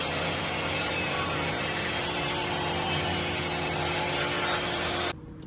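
Steady, continuous sawing through wood by a power saw while making a segmented bowl, loud and close, cutting off abruptly near the end.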